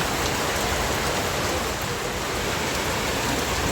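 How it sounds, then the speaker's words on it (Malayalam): Heavy rain pours down in a dense, constant hiss, loud and unbroken throughout, with no voices. "നല്ല മഴ കേട്ടോ"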